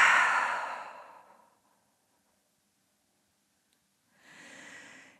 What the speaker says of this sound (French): Ouvre la bouche, expire, relâche.